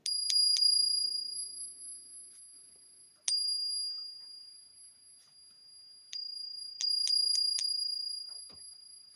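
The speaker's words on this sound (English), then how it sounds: "Imagine a bell made out of the gold." A bright, ringing bell imagined as cast from gold, struck several times in uneven clusters, each clear high ping ringing out and slowly fading, close and alone with no voices.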